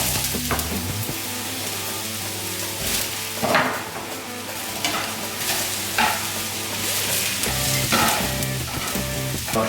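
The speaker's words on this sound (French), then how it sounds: "On va maintenant les faire cuire à la poêle, tout simplement, dans un petit peu d'huile d'olive." Eggplant pieces fry in a pan in a little olive oil, a steady loud sizzle under repeated stirring scrapes and soft clatter, with no talking.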